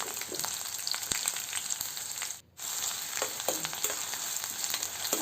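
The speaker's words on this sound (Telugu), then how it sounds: "ఆనియన్స్ అంతా కొద్దిగా దోరగా వేగే అంతరికి ఫ్రై చేసుకోవాలి." Onions and green chillies frying in a pan, a steady close sizzle with a soft crackle throughout and one momentary dip near the middle.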